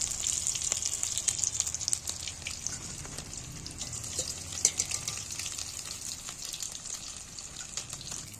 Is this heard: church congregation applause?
no